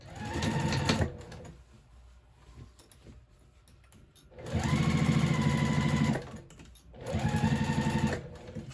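A home sewing machine stitches across the bottom of a fabric bag with lining in three loud, rapid mechanical bursts, each separated by a short quiet pause, with no talking.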